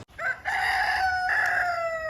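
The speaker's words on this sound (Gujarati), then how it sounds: "આપણે ઉઠેગા કુકડા બોલે" A rooster crows once, close and clear, in a single drawn-out call that rises and holds before trailing off, with no other sounds around it.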